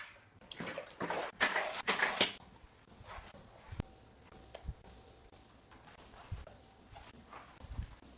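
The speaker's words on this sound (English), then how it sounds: "Wash the mop." A mop is sloshed and wrung in a bucket of water during home cleaning, giving a burst of splashing and swishing followed by quieter drips, knocks and creaks.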